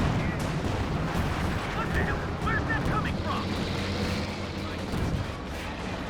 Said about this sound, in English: Big grenade from SlowLee